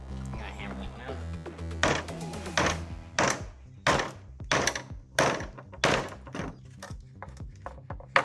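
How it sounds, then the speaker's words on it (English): A hammer knocks out a hood hardware part on a Saab Sonett under restoration. There is a series of sharp, irregular metallic-wooden knocks, close and fairly loud, with brief pauses between strikes, and a voice speaks over them at the start. "I gotta hammer that one out."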